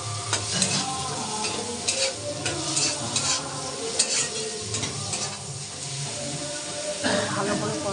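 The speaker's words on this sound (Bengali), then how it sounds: "ভালো করে কষাবো" Spices with chili powder and sugar being sautéed and stirred in a pan, a steady frying sizzle under repeated scraping strokes of the spoon, close and continuous, with a voice speaking faintly at times.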